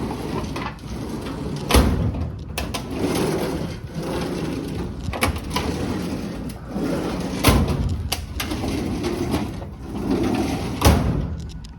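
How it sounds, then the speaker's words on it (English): A heavy metal file cabinet on newly added casters rolls across a shop floor, giving a continuous low rumble broken by sharp clunks and knocks every few seconds, fairly close. "you can roll it around, push it wherever you need it"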